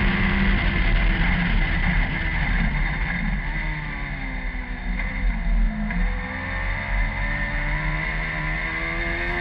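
A race car powers out of the hairpin at Kirkistown during a Sevens Challenge race, its engine note rising and shifting through the revs, loud and close throughout.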